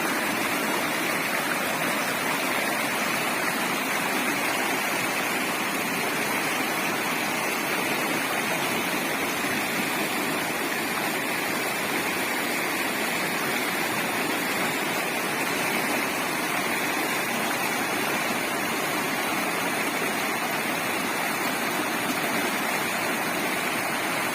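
The Punur river in Kozhikode district, Kerala, rushes in a loud, continuous, even roar of flowing water that stays steady from start to finish with no voices.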